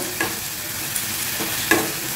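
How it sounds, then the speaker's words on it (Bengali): Spiced masala with yogurt sautés over low heat in a pan for cauliflower curry, a close continuous sizzle broken by a few sharp stirring scrapes, no talking. "এবার এটা মশলাটা কষাবো"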